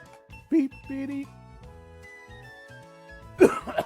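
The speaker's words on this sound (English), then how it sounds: "Now I'm coughing." A person coughs and clears their throat after taking a sip of a drink, two short sharp bursts near the start and end over quiet game music.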